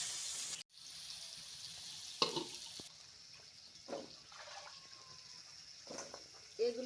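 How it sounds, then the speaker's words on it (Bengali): Rui fish frying in hot oil, a steady sizzle running throughout with a sharp crackle near the start and scattered spits and pops, close by and moderately loud. "মাছ ভাজি।"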